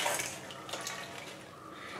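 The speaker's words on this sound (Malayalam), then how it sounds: "ഇത് ഒരു കുക്കർ എടുക്കുക" A pressure cooker is handled for cooking black chickpeas (kadala), giving faint metallic clinks and light rattling of cookware against a soft wet background, quiet and close, with no talk.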